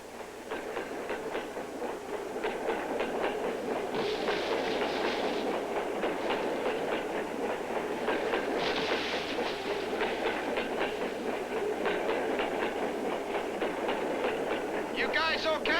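A train rumbles steadily along the rails with rhythmic clickety-clack, continuous and fairly loud throughout.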